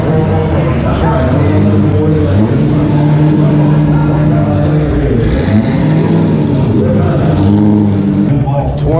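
A Corvette's engine rumbles and revs steadily at close range at a dealer auction, a continuous throaty idle with rising and falling swells, while people talk over it.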